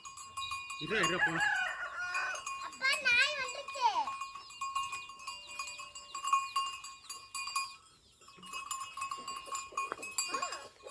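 A rooster crows once loudly near the start, followed by goat-like bleats and farmyard noise, with a steady tonal hum underneath.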